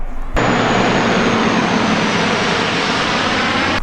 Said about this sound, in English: Check out this plane flying by.